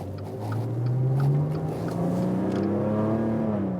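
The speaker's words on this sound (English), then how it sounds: "Let's go into sport mode. Some traffic light acceleration." Maserati Ghibli SQ4 with its all-wheel-drive V6 petrol engine accelerating hard in sport mode from a traffic light: a loud, steady engine note climbing smoothly in pitch, heard from inside the car.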